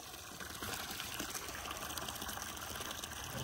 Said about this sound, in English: Water's running clear and it's actually running decent for not being throttled up.